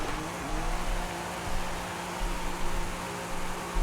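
A car engine in Forza Horizon 5 drones steadily during a drift, a loud, continuous buzzing roar with slight rises in revs and no voice over it.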